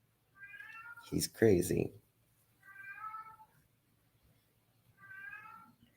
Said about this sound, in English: Can y'all hear my cat?